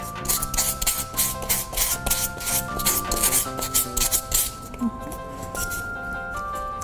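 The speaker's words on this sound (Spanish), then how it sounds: "Tienen que lijar así." Hand sanding on a small craft piece for a Santa and Mrs. Claus candy dish, a steady rhythmic rubbing rasp up close, with background music playing throughout.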